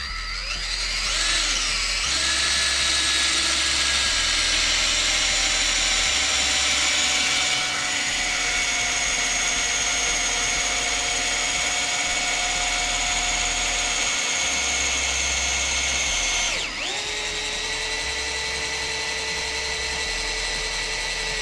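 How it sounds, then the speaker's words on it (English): A power drill drives a GRK 14-inch LPS log panel screw, a loud steady motor whine with one brief dip partway through before it settles into a slightly lower, continuous drone. "just got to switch bits here and go with this 14-inch LPS, or log panel screw as we call it"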